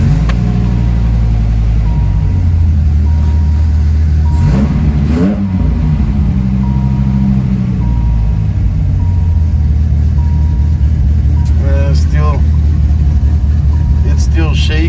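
A 1997 Dodge Viper GTS engine with a misfire rumbles loudly and close, a deep, uneven idle broken by a couple of rising revs, with someone talking over it.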